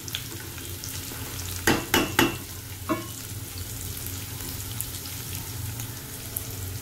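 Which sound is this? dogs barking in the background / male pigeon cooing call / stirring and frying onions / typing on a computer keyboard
stirring and frying onions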